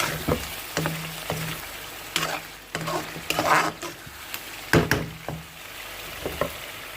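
Chicken karahi, Peshawari charsi street style with green chillies, fries in a pan. Loud scraping stirs and clanks of the spoon come in irregular bursts over a soft sizzle, close by and with no talk.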